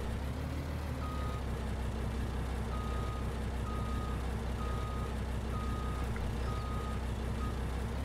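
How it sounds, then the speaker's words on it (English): A truck in the Farming Simulator 19 video game backs up slowly. About seven evenly spaced reversing beeps sound over a low, steady engine rumble, with no one talking. "So just nice and slowly back this up. This is a very nice truck for a slow maneuver"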